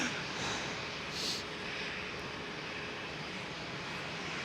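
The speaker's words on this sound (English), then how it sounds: "another KLM 737 starting up the engines" A KLM Boeing 737 starts up its engines at Schiphol, producing a steady, faint whooshing drone heard from a distance with brief swells, no voices over it.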